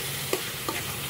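Marinated beef frying in a hot pan, a steady close sizzle with two brief stirring scrapes, no voices.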